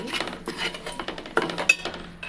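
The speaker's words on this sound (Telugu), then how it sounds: "మొత్తం గరిటతో ఒకసారి బాగా ఇలా కలుపుకోవాలి." A ladle stirring masala curry in a pot, with scraping clinks of metal against the pot repeating in a steady rhythm and one sharper clink near the end.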